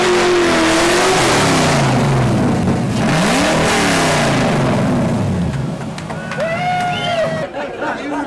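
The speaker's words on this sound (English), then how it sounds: "So each one of the cars has to do a burnout with me in it before they leave." A rally car doing a burnout revs hard and roars loudly with tire squeal, pitch rising and falling, while people chatter in the background.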